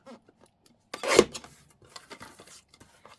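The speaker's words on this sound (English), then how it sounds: "I'm going to trim it even a little bit more." Scissors trim a photograph for a journal page, producing one close, brief snipping burst followed by a few faint rustles and small cuts.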